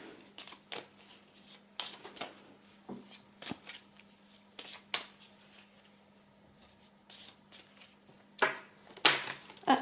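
Tarot cards being shuffled by hand at close range, a run of quick riffling bursts and soft slaps separated by short pauses, with no voice over them.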